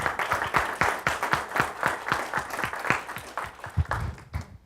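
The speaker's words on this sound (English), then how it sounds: "Let's give them one more big round of applause." A room of reception guests at a project update gives a big round of applause, many hands clapping briskly and close by, the sound thinning and fading out toward the end.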